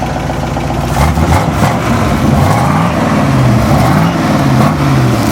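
A Ford F100 truck's 292 wide-block engine revs loud and close, its rumbling idle rising and falling through several throttle blips with a throaty, uneven exhaust note.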